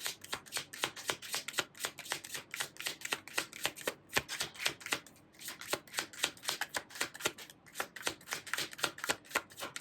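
Tarot cards being shuffled during a reading, a rapid run of crisp riffling slaps and flutters repeating steadily and close by, with a couple of brief pauses between bursts and no talking.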